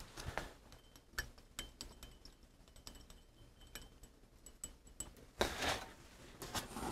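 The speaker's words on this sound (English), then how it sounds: "I'm gonna actually mix this with a pipette" A pipette clinks lightly against glass while stirring a perfume mixture, giving a series of faint, irregular taps close by, with a louder scrape near the end.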